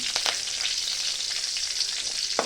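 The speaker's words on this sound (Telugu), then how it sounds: "ఇప్పుడు 2 రెబ్బలు కరివేపాకు, 2 రెమ్మలు తీసుకొని వేసుకుంటున్నాను" Curry leaves dropped into hot tempering oil for mint and coriander chutney, giving a close, bright crackling sizzle with a couple of sharp pops, alone without speech.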